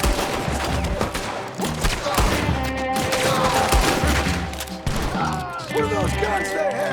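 A Red Dead Redemption 2 video game shootout fills the clip with dense, continuous bursts of gunfire and heavy booms. Layered game sounds and voices run underneath.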